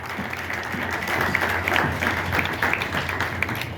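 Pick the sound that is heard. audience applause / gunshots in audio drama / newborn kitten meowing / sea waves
audience applause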